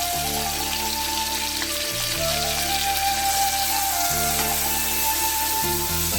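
Curry leaves sautéing in a pan until golden, a steady sizzle and hiss running throughout over a low, continuous background hum.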